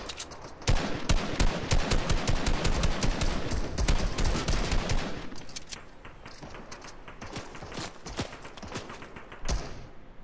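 Gunfire in Fortnite Arena mode: rapid, loud bursts of automatic shots for about five seconds, then fainter scattered shots and a final loud report, with no talking.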